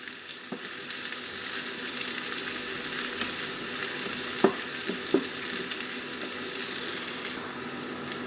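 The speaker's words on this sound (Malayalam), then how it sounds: "കനം കുറച്ച് കട്ട് ചെയ്ത് വെച്ചിരിക്കുന്ന സവാള കൂടി ചേർത്ത് കൊടുക്കുന്നുണ്ട് ഇനി ഇതൊന്ന് നല്ല രീതിയിൽ തന്നെ ഒന്ന് വഴറ്റിയെടുക്കാം" Thinly sliced onions sauté in a pan for soya chunks thoran, giving a steady, moderately quiet sizzle with a few soft scrapes of stirring.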